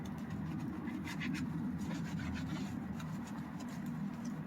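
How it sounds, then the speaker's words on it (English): A NanoSkin scrub sponge rubs across a badly soiled car wheel, a steady gritty scrubbing and rasping close up, with a low background hum running underneath. "I have a NanoSkin scrub sponge"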